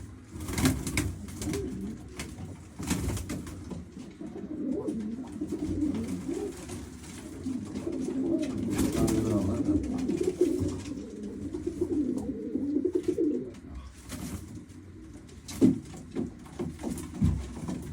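Pigeons coo steadily in a low, rolling chorus close by, broken by sharp bursts of wing flapping as birds take off, in a Turkish pigeon keeper's loft.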